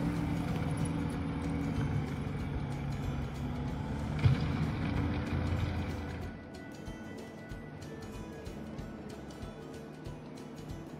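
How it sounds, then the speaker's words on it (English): A New Holland 232 tracked skid steer grading a parking lot, its steady engine drone and track rumble running loud for about six seconds, then easing to a lower, quieter idle-like hum. "This 232 New Holland Track skid steer was an amazing piece of equipment"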